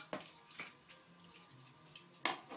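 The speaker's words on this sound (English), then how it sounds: "So let me rinse off the blade again." Water rinsing a large Japanese sword blade with a yaki pattern, heard as faint splashes and drips, a few sharp spills and trickles spread irregularly over quiet background.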